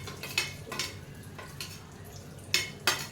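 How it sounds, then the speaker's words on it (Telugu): Tempering spices crackle and sizzle in hot oil in a pan, with several short bursts of popping and spattering over a steady low fry, close and fairly quiet. "ముందు పోపు వేసేసుకొని"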